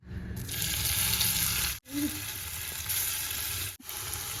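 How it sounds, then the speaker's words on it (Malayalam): Paneer cubes fry in about a teaspoon of oil in a pan, giving a loud, continuous close sizzle with two brief breaks; no speech. "നമുക്കിനി പനീർ ക്യൂബ് ഇതിലേക്ക് ഇട്ട് കൊടുക്കാം"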